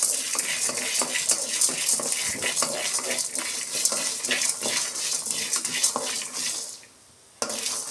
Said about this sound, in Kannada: ಎಲ್ಲ ಸೇರಿಸಿ ಸ್ವಲ್ಪ ಈ ಥರ ಫ್ರೈ ಮಾಡ್ಕೊಳ್ಳೋಣ ಚೆನ್ನಾಗಿ